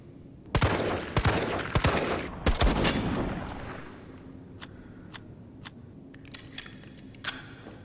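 A G19 handgun in Resident Evil 3 Remake fires several loud, sharp shots in quick succession, followed by quieter mechanical clicks and clacks of handling.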